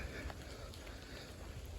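Cold rain falling steadily at Devil's Millhopper State Park, a faint, dense patter with a low rumbling wash underneath and no voices.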